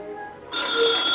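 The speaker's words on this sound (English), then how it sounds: "there's the phone" An old-style telephone bell starts ringing partway through, a bright continuous trill that is fairly loud, set in a 1940s home.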